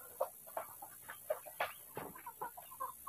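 Farmyard chickens waiting to be let out of their coop cluck softly and steadily at a distance, a scattered string of short, quiet clucks over faint background hiss on a hot afternoon.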